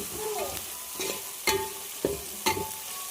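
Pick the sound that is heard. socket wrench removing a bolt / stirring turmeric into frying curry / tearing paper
stirring turmeric into frying curry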